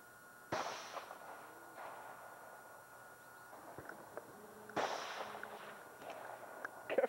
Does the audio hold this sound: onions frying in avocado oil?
no